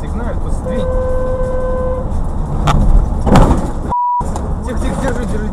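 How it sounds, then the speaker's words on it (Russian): Car horn blaring on a highway near a crash between two vans, a long sustained honk under Russian talk, with engine rumble and a brief sharp tone later. "Посигналь ему"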